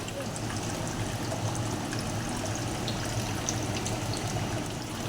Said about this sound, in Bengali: এবার আমি মাছগুলো ঝোলের মধ্যে দিয়ে দিচ্ছি।